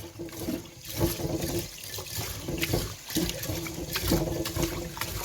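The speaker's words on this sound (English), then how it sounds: "So now I'll wash the rice." Water splashes and swishes in a bowl with irregular sloshing bursts as rice is swirled and rinsed by hand for biryani, fairly close and steady throughout.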